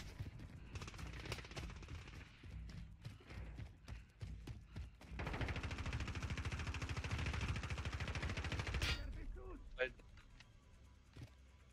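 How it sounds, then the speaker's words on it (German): Gunfire in the video game Call of Duty: Modern Warfare, with scattered single shots and then a long sustained burst of rapid automatic fire, heard under and between players talking. "Da sind noch Schüsse."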